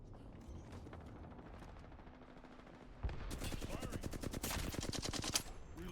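Rapid automatic gunfire in the battle royale video game Apex Legends, a dense burst of loud repeated shots starting midway and continuing to the end, after a quieter stretch of game ambience and faint mechanical clatter.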